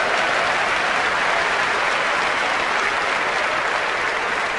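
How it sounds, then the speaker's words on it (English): A crowd at a motivational speech breaks into loud, continuous applause, thick, even clapping that holds steady for several seconds with no voices standing out. "Give her a round of applause, all right?"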